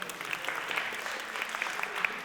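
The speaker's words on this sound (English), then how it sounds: "A round of applause, please." Brief applause from a conference audience, a moderate patter of hands with a few crisp nearby claps standing out.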